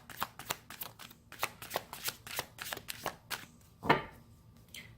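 Tarot cards being shuffled close up: a quick run of crisp riffling bursts, about a dozen in steady rhythm, then a brief louder flutter near the end. No one speaks.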